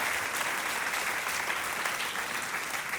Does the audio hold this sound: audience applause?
yes